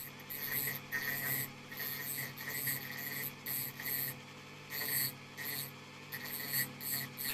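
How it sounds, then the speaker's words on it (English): A grinding disc sharpens the split point of a drill bit clamped in a vise, giving light rhythmic rasping passes with short pauses between them over a steady low hum. "We match the angle of the split point with the grinding disc and we make really light contact"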